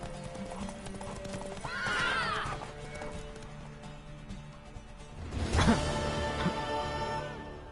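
A horse whinnies loudly with clip-clopping hooves, a rising neigh early on and a second louder burst later, set against a busy background of movement.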